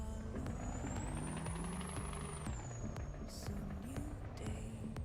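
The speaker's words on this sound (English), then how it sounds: "In the big Scania." Scania truck engine in Euro Truck Simulator 2 with pro mods, a steady loud low drone with shifting engine harmonics throughout, brief hissing air brake bursts, and a high whine sweeping up and down.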